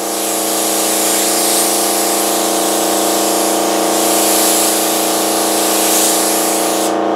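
Compressed air hisses steadily from a spray gun onto a mold for a Kevlar fuel tank, a loud, continuous close-up blast lasting several seconds with slight swells and no pauses.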